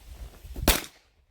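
A single sharp gunshot at an outdoor shooting range, one loud crack standing alone with a short fading tail and no talk.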